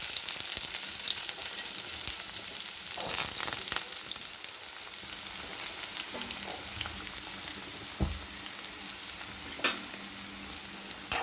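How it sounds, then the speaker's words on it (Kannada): Onions and curry leaves frying in oil for an amaranth leaf stir fry, a steady close sizzle and crackle throughout with a few brief stirring scrapes and clinks. "ಸ್ವಲ್ಪ ಗೋಲ್ಡನ್ ಕಲರ್ ಆಗೋವರೆಗೂ ನಾವು ಫ್ರೈ ಮಾಡ್ಕೋಬೇಕು"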